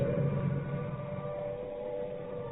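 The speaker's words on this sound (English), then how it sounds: "The noise that you hear at the moment is the sound of the air raid siren." A steady wailing air raid siren drones on in wartime London at night, distant and fairly faint, its held tones sustained throughout with a low rumbling background.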